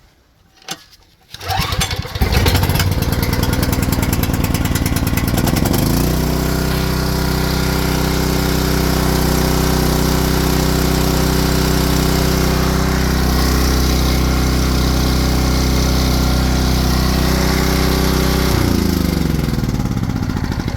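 A Coleman Powermate 6250 generator is pull-started with choke on: a few quick recoil pulls, the engine catches and roars up, then runs in a loud, steady drone close by before the pitch shifts near the end.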